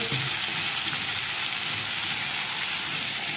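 Turmeric, red chilli powder and salt sizzle steadily in hot oil, a loud, even, close hiss that keeps going without a break and with no voices over it.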